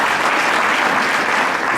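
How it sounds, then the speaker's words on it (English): Banquet audience applauding, a dense, loud wash of many hands clapping steadily and close throughout, with no voices over it. "So since you did applaud"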